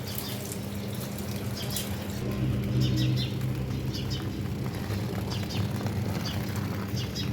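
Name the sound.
birds chirping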